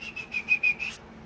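A person whistles a short series of about five rhythmic, steady high notes, close and clear, with no talking.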